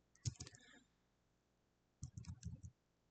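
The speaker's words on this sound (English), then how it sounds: "Let's go ahead and just type it in instead." Computer keyboard typing out a git config command: two short bursts of quick, quiet key clicks separated by a pause of about a second.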